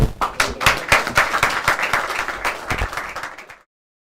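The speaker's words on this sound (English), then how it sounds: "round of applause for all the" Audience applause at a press conference for a Friends of Africa versus Friends of Caribbean event, with loud, close, distinct claps forming a rhythmic burst that stops abruptly near the end.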